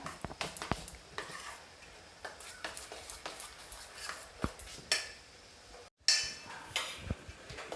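Oats idli batter being spooned into a greased idli mould, with a run of light metallic clinks and taps from spoon against mould, steady through the stretch and fairly close, with no talking.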